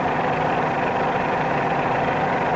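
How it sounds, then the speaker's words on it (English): A steady, continuous airplane engine drone during a climb, working harder than in level flight, holds at a constant pitch throughout, with no voices. "Another cue to the correct climbing attitude is the sound of the engine."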